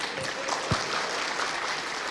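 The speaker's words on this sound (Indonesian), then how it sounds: "Tepuk tangan." An audience applauds at an Indonesian formal gathering, a dense, steady patter of clapping heard from within the crowd.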